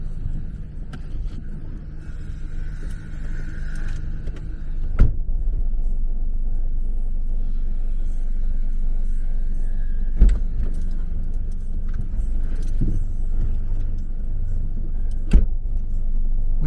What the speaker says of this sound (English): We're now on a drive home with the camera mounted on the dashboard.